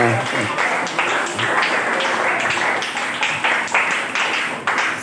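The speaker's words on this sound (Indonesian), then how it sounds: "tepuk tangan buat kalian semuanya" Audience applause after a closing request to clap at an Indonesian religious talk, a dense steady patter of many hands held at an even level throughout with voices mixed in.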